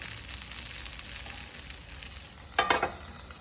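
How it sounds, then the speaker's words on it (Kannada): Paddu batter cooking in a covered pan, a soft steady sizzle and hiss throughout, with a short louder crackle or clatter near the end; no voices. "ಇವಾಗ ನಾನು ಲಿಡ್ ಕ್ಲೋಸ್ ಮಾಡಿ ಇದನ್ನು ಒಂದು 2 ಮಿನಿಟ್ಸ್ ಬೇಯಿಸ್ಕೋಬೇಕು"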